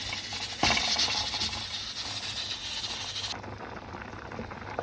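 Fish soup with vegetables, cheese and onion bubbles in a pot, a soft steady hiss and patter of boiling that drops sharply in brightness partway through and carries on quieter.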